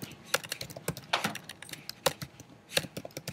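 Typing on a computer keyboard: a quick, uneven string of soft key clicks with a few louder taps, faint and close, with no speech.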